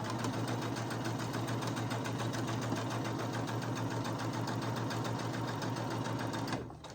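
A Brother CS7000X electric sewing machine runs at a steady, fast rhythmic stitching pace, loud and close, before winding down and stopping at the very end.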